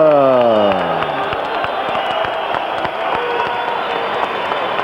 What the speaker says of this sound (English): A round of applause, please, for this great performance tonight by Carl.